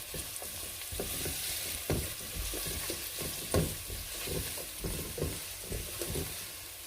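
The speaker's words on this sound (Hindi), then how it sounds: "प्याज को आपने थोड़ा सा सोटे करना है।" A medium onion sizzles and is stirred in about three tablespoons of hot oil in a pan, giving close, steady crackling frying with periodic scraping strokes of a spoon.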